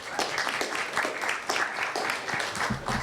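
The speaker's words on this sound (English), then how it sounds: "That was a fairly modest round of applause for them, I thought." Modest audience applause at a 2018 Vancouver mayoral debate, a steady patter of clapping from a seated crowd lasting the full few seconds at moderate loudness.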